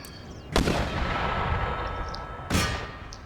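Mortars in Empire: Total War fire twice, each a sharp, loud boom with a ringing clang, about two seconds apart over a steady battlefield rumble.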